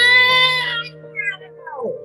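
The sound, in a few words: voice imitating a mechanical screeching cat sound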